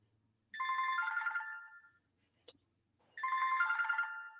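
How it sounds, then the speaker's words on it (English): An incoming call sets a phone ringtone going: a loud, bright melodic ring plays twice with a pause between, broken only by a tiny click, and nobody speaks. "His phone's blowing up."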